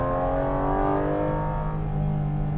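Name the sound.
car engine induction noise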